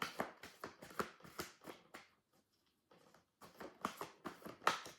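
A deck of tarot cards is shuffled in quick riffling bursts, pausing briefly midway before the crisp shuffling resumes, close and fairly quiet.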